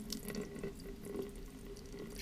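Water pours from the spout of a double-lip pottery gallery pitcher in a steady, soft trickling stream with faint splashing, close and quiet throughout.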